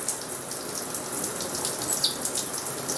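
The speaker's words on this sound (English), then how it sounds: "You ready to take a shower?" Shower water runs steadily with a splashing hiss, moderately loud and close, punctuated by small drips and spatters.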